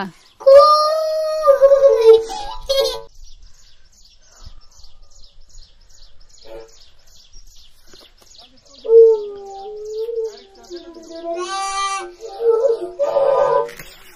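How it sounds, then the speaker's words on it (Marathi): A peacock near a maize field on a farm gives loud, drawn-out wailing calls in two bursts separated by a quiet gap, with people talking faintly nearby. "अजून एक मोर आवाज देतोय"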